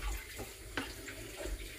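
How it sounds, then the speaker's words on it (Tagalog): Water poured into a cup of coffee, a soft, close trickle running briefly with a small splash partway through, on its own without talk. "Tagyan ko muna ng tubig itong ating kape."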